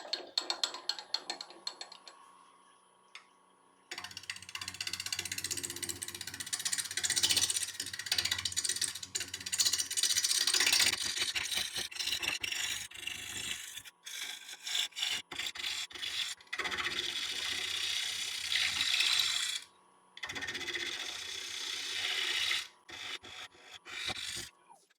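A wood lathe trues up the bottom of a wooden bowl. Uneven bursts of tool scraping and rasping against the spinning wood are broken by short quiet gaps.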